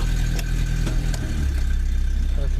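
A Chrysler LeBaron car engine running just after starting, a steady low rumble close by that settles into an even idle.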